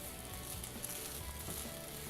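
Egg fried rice made with basmati rice, egg and vegetables sautés in a hot pan with a steady, even sizzle throughout.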